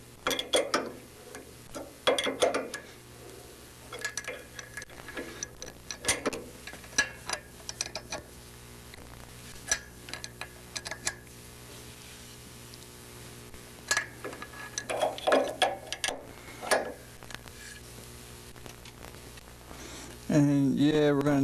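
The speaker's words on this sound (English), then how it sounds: "You just keep tightening it down until you bottom out on that inner collar." A fastener is tightened down on a Vans RV-6 aircraft kit, giving quiet intermittent ratcheting clicks and small mechanical ticks in bursts, with someone talking over the work.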